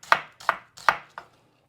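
A knife finely slices onions on a board for a Pakistani haleem garnish: four crisp, evenly spaced cuts, close and clear, with no talking.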